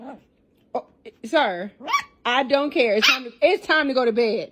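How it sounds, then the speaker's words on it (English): A person speaks firmly while a dog barks and yips in short bursts close by, the barks overlapping the talking. "Don't bark at me."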